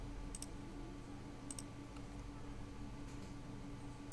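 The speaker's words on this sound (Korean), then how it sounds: "컨트롤 키 눌러서 클릭" A computer mouse clicks twice in quick pairs, then again softly, while the Ctrl key is held during SketchUp modelling, faint sharp ticks over a steady low hum.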